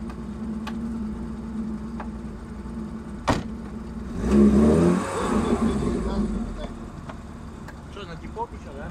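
A Karakat off-road vehicle towing a stuck Lada Niva rumbles low, then surges into a loud engine rev midway before settling again, with people talking over it.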